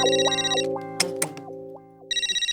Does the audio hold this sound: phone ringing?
yes